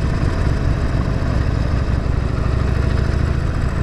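A Harley Davidson 48 cruiser motorcycle engine rumbles steadily while being ridden, a loud, continuous close-up drone with no voices over it.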